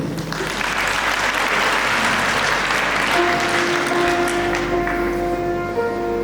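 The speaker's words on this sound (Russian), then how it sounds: "Здесь ваши аплодисменты." Sustained audience applause at a concert, a thick steady roar of clapping; toward the end a piano enters with held notes beneath the fading applause.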